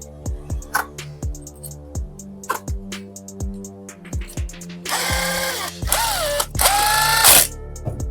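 A ratchet clicks rhythmically while tightening the spool bolt on a Vespa GTS iGet 4V engine during assembly, steady repeated clicks up close, followed by a few louder bursts of a whirring power tool.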